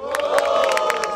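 Crowd at a street rap battle roaring and shouting for the rapper Mike in Barueri, SP, a loud sustained cheer with sharp whoops and yells cutting through.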